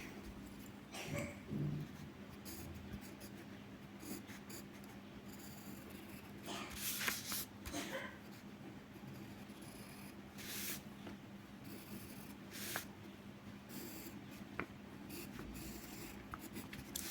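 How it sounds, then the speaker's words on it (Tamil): A pen scratches across paper while a curve is drawn for a maths exercise, coming as quiet, intermittent strokes with short pauses between them in an otherwise hushed room. "கர்வ் வரைஞ்சிக்கலாம்."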